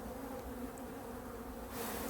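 Honey bees buzz steadily at open hive frames, a dense close drone that swells slightly louder near the end.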